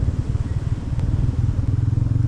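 A Royal Enfield Meteor 350 cruiser motorcycle being ridden, its single-cylinder engine thumping in a low steady pulse with road rumble, close and constant throughout without speech.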